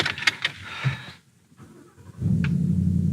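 A custom blue Ford Mustang GT on the move, with a brief whoosh and faint rumble fading to near quiet, then a steady low engine drone rising and holding through the end.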